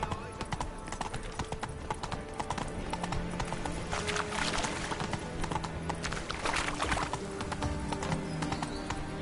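Roach, Geralt's horse in Witcher 3, gallops with quick rhythmic hoofbeats that stay close and loud, a brief whinny breaking through, while voices speak over the clatter.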